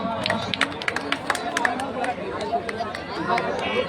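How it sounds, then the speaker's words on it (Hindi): Crowd at a Nishad Party political rally clapping in brisk scattered bursts amid busy chatter and outdoor crowd noise. "वाह, ताली बजाओ।"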